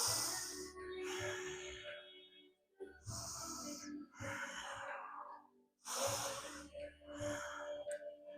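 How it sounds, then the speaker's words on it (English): Deep breathing during a yoga exercise: three slow, close breath cycles, each a long airy inhale or exhale separated by brief pauses, with no talking. "Deep breathing."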